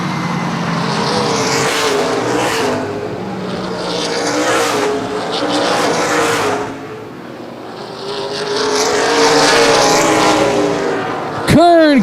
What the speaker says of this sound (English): here comes Allie Kern in the number 4 car